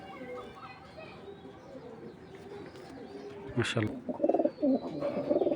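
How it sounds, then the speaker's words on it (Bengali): Two original BRPFC club racing pigeons coo in low, drawn-out murmurs, followed by several louder bursts of calling near the end, with someone speaking briefly over them. "দেখেন মাশাআল্লাহ ডাকের দিক থেকে অনেক ভালো, দুইটাই কিন্তু অরিজিনাল ক্লাবের কবুতর"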